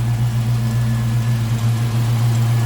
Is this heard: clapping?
no